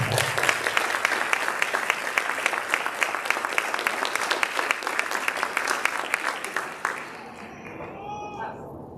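A roomful of people claps steadily at a school board retirement ceremony, loud and continuous for about seven seconds before stopping abruptly into quiet.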